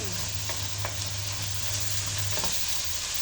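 Patola (sponge gourd) sizzles steadily as it fries in a pan for corn soup, with a few faint stirring clinks and a continuous close hiss and no talking.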